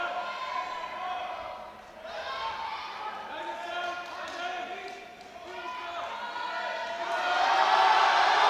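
A crowd at a European Open Classic Powerlifting Championships bench press session sustains a roar of cheering and shouting voices that dips briefly, then swells louder toward the end.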